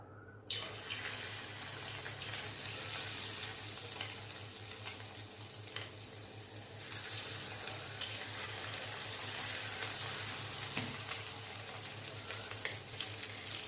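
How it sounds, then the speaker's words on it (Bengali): Chicken pieces frying in hot oil in a wok for chilli chicken, a steady, dense hiss and crackle close up, continuous throughout with no talking. "কড়াইতে আমি তেল দিয়েছি তেল গরম হয়ে গেছে এরপর আমি এই চিকেনগুলো একটা একটা করে"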